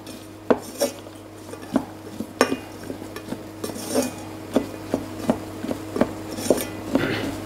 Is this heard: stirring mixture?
yes